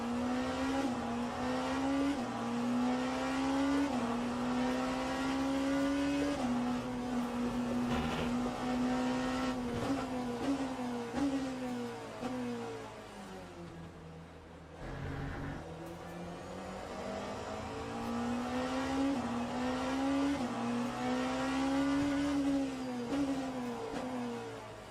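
A Porsche hypercar engine howling around Daytona in a racing game, steady high drone with rising and falling revs through shifts and corners, fairly quiet and continuous with no talk.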